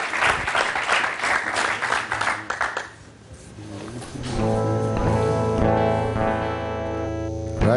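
Studio audience applause on a French-language talk show, a broad wash of clapping for about three seconds that fades, then gives way to music that swells and holds steady to the end.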